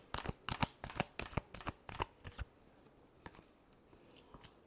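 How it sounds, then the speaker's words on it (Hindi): Tarot cards riffled and shuffled by hand in quick, crisp bursts for a Scorpio love reading, close and dry; the flurry thins out into a few softer taps toward the end. "last shuffle"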